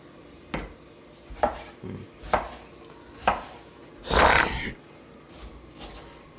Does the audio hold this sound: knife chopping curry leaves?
yes